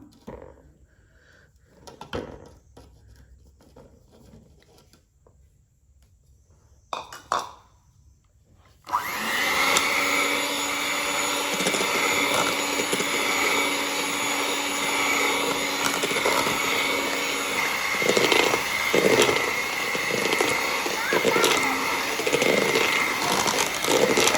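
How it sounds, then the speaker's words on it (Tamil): Butter cake batter mixed with flour, likely by an electric mixer: quiet bowl clatter and knocks for several seconds, then a loud, steady motorized whir starts and keeps running to the end. "இப்போ நாங்கள் இதுக்குள்ள மாவையும் போட்டு மிக்ஸ் பண்ண போகிறோம்"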